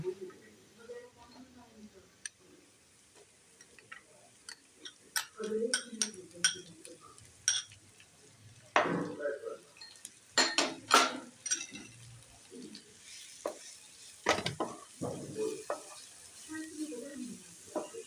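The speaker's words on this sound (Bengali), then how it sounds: "পেঁয়াজটা একটু সোনালি করে ভেজে নেবো" Onions fry in a pan after garlic for a mutton keema and aubergine mash dish, a soft sizzle broken by stirring scrapes and clinks of a utensil against the pan, with a voice talking intermittently.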